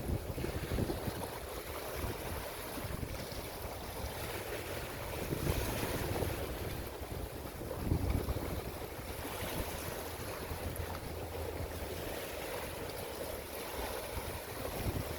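Small boat heading out to sea off Jamaica, with a steady wash of wind, waves and rushing water around the craft and continuous wind buffeting on the microphone.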